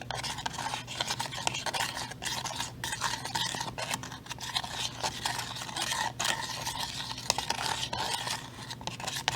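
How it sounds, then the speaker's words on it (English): Salt stirred into homemade berry ink makes a steady, close rubbing and scraping sound with irregular gritty strokes that continue throughout, without any voices. "I'm adding my half a teaspoon of salt and I'm just going to give this a quick mix"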